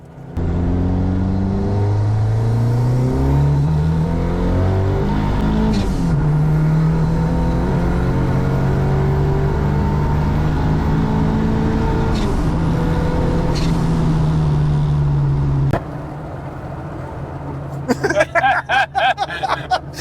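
A 350 bhp Mk1 Ford Escort Cosworth engine drones loudly and steadily from inside the moving car, pitch rising and falling through gear changes, before easing off near the end with brief sharp noises.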